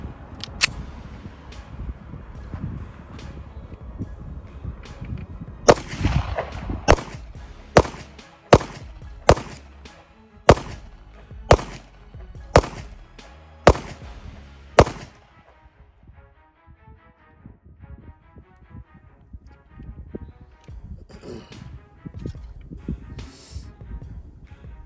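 Smith & Wesson CSX pocket pistol fired at a shooting range: about ten sharp, loud shots in a fairly even rhythm over several seconds, then quieter background noise.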